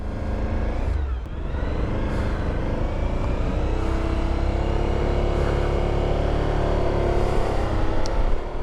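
A 2023 Suzuki V-Strom 1050DE motorcycle ridden at speed: a steady loud engine roar mixed with heavy wind rush, one brief dip near the start, then constant droning to the end, no voices.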